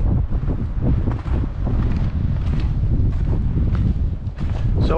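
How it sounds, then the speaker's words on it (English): Strong wind over snow-covered ground outdoors buffeting the microphone in a continuous, heavy roar with rumbling gusts and no voices. "it's too windy today"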